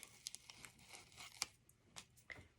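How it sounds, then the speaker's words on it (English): Adhesive backing is peeled off a DIY tiered tray piece, a faint close crinkling and tearing with a few sharp crackles, quiet and brief. "peel off your backing"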